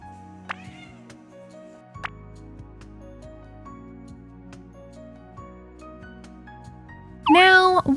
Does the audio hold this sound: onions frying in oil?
no